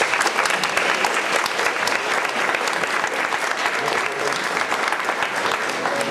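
A large graduation ceremony audience claps in sustained, dense applause, loud and even throughout, with faint voices mixed into the crowd noise.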